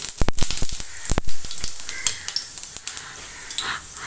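Fennel seeds sizzle in hot coconut oil in a pan on the stove, a crackling hiss with sharp pops and spatters close by, a few loud early bursts settling into steady frying.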